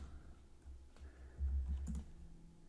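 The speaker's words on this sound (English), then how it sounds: "Using tab completion there because typing is terrible." Keystrokes clatter on a computer keyboard while code for parsing METAR weather data is entered, a quick run of close, soft taps with a louder burst of keys in the middle.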